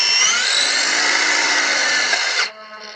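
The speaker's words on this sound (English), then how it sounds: "it's the gyro inside the wheel." A gyro inside the wheel of an Xrider CX3 Air 1/10 RC motorcycle spins with a steady, high whine that sits close and loud. It cuts off abruptly at the end, leaving a faint hum.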